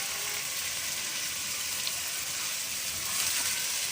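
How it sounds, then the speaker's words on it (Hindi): Green peas sizzling and frying in a pan for chutney, a steady hissing crackle that stays even throughout and swells slightly near the end. "अब हम इसमें डालेंगे अपनी मटर"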